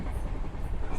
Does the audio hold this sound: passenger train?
yes